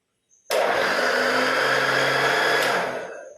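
An electric mixer blends ground coconut with water for coconut milk in a home kitchen. Its motor starts abruptly into a loud, steady whine and grind, runs for about two seconds, then cuts off and winds down.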